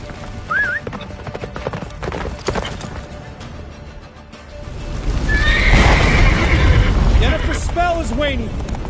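Roach, Geralt's horse in The Witcher 3, gallops with rapid hoofbeats and neighs sharply several times amid game music and wind, with a voice speaking over parts of it.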